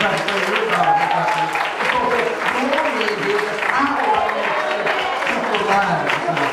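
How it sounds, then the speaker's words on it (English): A church congregation applauding during a Sunday service, steady mass clapping mixed with voices and crowd murmur, loud and continuous, with people talking or calling out over it. "Now put your hands together and give my God a hand clap."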